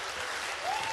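Audience applause for a band on a Bulgarian TV show, a steady wash of clapping at moderate level through a short burst, with a faint tone rising near the end.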